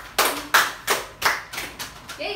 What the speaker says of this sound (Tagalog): Bigyan ng 5 palakpak si Janina